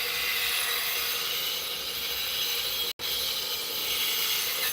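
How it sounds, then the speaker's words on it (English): Bowl gouge making push cuts on a walnut crotch turning on a wood lathe, a continuous faint scraping hiss with a steady mechanical hum and one brief dropout. "I'm going to start off with my bowl gouge, see if I can do some push cuts down the side of it"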